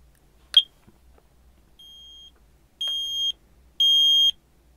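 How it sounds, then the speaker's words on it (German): A Shelly Plus Smoke detector sounds during a test: one short chirp, then three separate high electronic alarm beeps, each about half a second long and louder than the last, in a quiet room. "ich löse hier mal einen Alarm aus."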